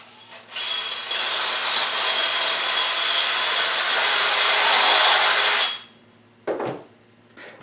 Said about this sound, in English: Alright, I just took my drill,